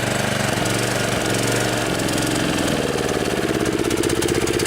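A Kawasaki FC150V 6.75 engine on a DR Trimmer TR-1, hard to start after sitting too long and starving for fuel, runs loud and steady on manual choke, a continuous close-up drone with no talking.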